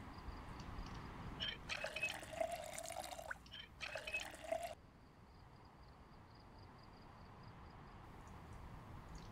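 Water poured from a watering can onto crops in the survival game Project Zomboid, two bursts of splashing about two seconds each, followed by quiet ambience.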